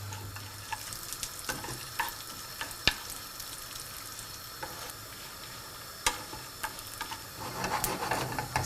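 Ingredients fry in a pan for a Persian dish, giving a soft, steady sizzle with intermittent sharp clinks and scrapes of stirring, growing busier and louder near the end.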